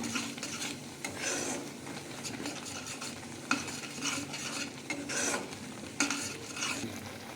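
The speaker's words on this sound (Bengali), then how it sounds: "একটু মশলাটাকে আমি ভাজার করে একটু কষিয়ে নেব।" Korma spice mix with turmeric being fried and stirred in a pan, with a steady close sizzle under repeated scraping strokes of a spoon against the metal.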